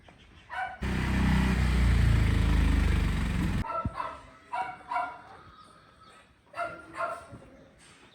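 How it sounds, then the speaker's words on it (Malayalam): A small dog barks in short sharp bursts at a house, several yips spaced across the stretch, moderately near, with a loud rushing noise passing early on. "ഒരു സ്മാൾ ഡോഗ് ആള് ചെറുതാണെങ്കിലും ഭയങ്കര വിഷയം കേട്ടോ ആ ഡോഗ് ഉണ്ടോ കിടന്ന് കുരച്ചോണ്ടിരിക്കുന്നത്"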